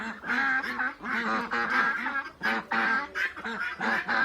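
Ducks in a backyard pen with several hens quack loudly and repeatedly, close by, in overlapping bursts with brief pauses.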